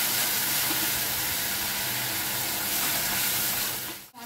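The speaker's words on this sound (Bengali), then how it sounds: "এই মশলাটা আমি কিছুক্ষণ কষে নেব।" Spice paste fries loudly in a pan for a Bengali ash gourd and hilsa fish head dish, giving a steady, close, dense sizzle that cuts off abruptly at the end.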